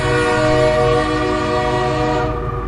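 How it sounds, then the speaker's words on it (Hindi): A train on a railway track sounds a loud, sustained, blaring horn close by, the steady tone holding for a couple of seconds before easing off at the end. "मुन्ना रेलवे ट्रैक पर बैठा हुआ होता है और सामने पीछे से उसकी ओर ट्रेन आ रही होती है।"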